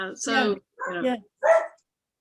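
A pet dog barks three times close by, in a quick run of loud, uneven yaps with short gaps between them, interrupting an indoor conversation.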